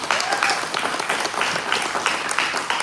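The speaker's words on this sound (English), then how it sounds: "Please give him a round of applause." A town hall audience claps in a brief, steady burst of applause nearby.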